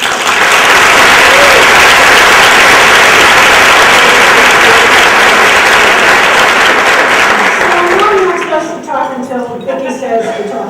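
An audience at a women's leadership event applauds warmly to welcome two speakers, a dense steady roar of clapping that fades near the end as a voice begins.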